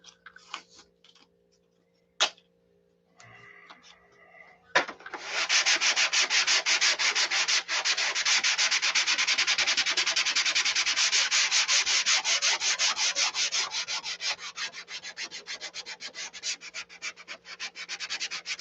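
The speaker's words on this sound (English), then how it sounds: "Sanded between each coat. Sanded, this is the coat before the color goes on." Steady, loud hand sanding of a fabric aircraft wing coated with four layers of dope, a fast continuous rhythmic rubbing after a few brief scrapes and knocks.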